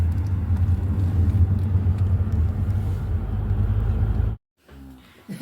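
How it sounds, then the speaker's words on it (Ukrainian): A car on the road, heard from inside the cabin: a steady, loud, low rumble of engine and tyres that cuts out abruptly near the end. "зараз їдемо в гості до мами Франка"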